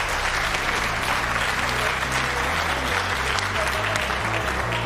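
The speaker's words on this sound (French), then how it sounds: "Et c'est la fin du match, on applaudit très fort." An audience applauds steadily at the end of a match in the finals of the French robotics cup, with continuous loud clapping and background music running underneath.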